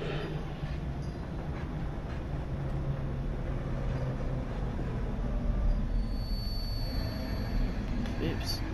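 A train in the video game Beyond: Two Souls rumbles steadily and grinds toward an unexpected stop, with a continuous loud rolling roar and faint wheel squeal throughout.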